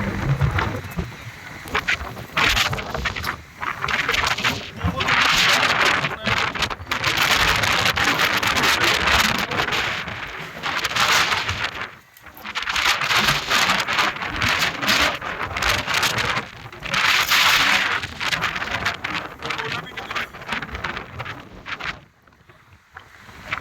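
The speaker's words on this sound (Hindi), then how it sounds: "बहुत तेज़ तूफ़ान है।" A violent dust storm with heavy rain roars steadily and loudly near Islamabad, with wind buffeting the microphone and dense rain noise surging and easing over about twenty-four seconds.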